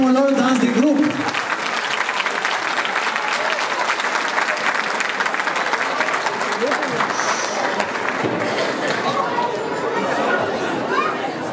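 An audience claps steadily for a children's group performing a Viennese waltz at a dance gala, the applause mixed with crowd chatter and a voice speaking over it throughout.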